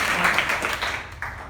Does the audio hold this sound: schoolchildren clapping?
yes